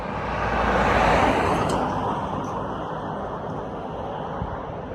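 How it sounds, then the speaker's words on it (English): A car sweeps past on a road, loudest near the start and fading steadily into a softer wash of distant traffic and wind. "It's another car."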